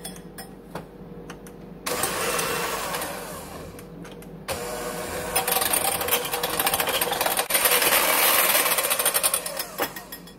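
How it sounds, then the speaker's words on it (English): An electric mixer beats evaporated milk in a bowl, its loud buzzing whir starting, stopping and restarting in bursts, with rattling of the beaters against the bowl and no talk. "to use your electric mixer and beat until stiff peaks form"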